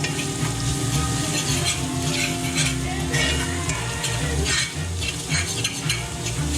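Onion and pheasant giblets frying in a very hot pan, a loud, dense sizzle with constant stirring and scraping against the pan bottom, close up and without talk.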